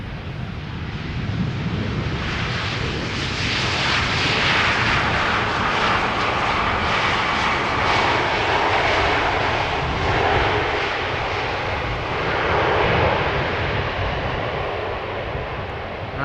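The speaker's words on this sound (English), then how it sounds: "Next up, A320neo EasyJet arriving from Geneva" An EasyJet Airbus A320neo arriving at Schiphol Airport, its jet engine roar steady, broad and loud throughout, swelling slightly mid-pass and again near the end as the airliner passes.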